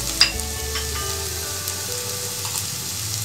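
Onion and spices such as red chili, turmeric and whole chilies frying in a pan for samosa filling, a loud continuous sizzle with a sharp clack of the spoon near the start and no talking.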